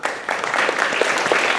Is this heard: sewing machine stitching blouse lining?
no